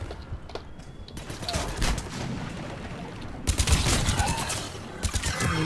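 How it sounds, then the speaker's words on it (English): A grenade blast in the sci-fi shooter Mass Effect 3 lands amid rapid, dense gunfire, with a loud burst near the middle and heavy crackling combat continuing around it. "Oh, that's a grenade."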